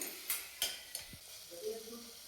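Tomatoes with a quarter spoon of turmeric fry in a pan for Karnataka-style avarekalu bath, a faint, soft sizzle broken by a few sharp spoon scrapes and taps as the mixture is stirred.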